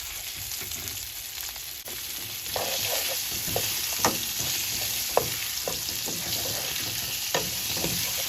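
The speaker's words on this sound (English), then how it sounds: "Cook that garlic and peppers till aroma. Throw in your asparagus pieces." Garlic, peppers and asparagus pieces fry in oil in a pan over medium-high heat, a steady sizzle broken by repeated sharp scraping stirs, close and fairly loud with no talking.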